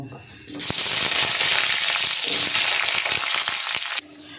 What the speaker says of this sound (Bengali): এই তেলের মধ্যেই আমি আলুটা ভেজে নেব।